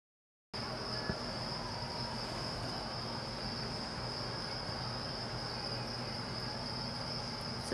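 Thousands of newly hatched crickets in breeding bins keep up a dense, continuous high chirring drone, steady and fairly loud, starting after a brief silence and running without pause, with no talk.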